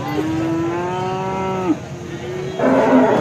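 A farmer's cow bellows at a cattle market in Alephata, a long, loud, rising moo that breaks off and then gives way to a second, shorter lowing call close by, with crowd murmur underneath.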